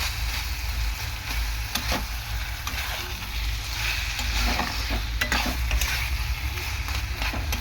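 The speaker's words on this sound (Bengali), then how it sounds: "বেশ কিছুক্ষণ ধরে এরকম নাড়াচাড়া করতে থাকবো" Taro leaves seasoned with a little sugar keep frying in a pan under continuous stirring, with a dense, loud sizzle and repeated scraping strokes close by.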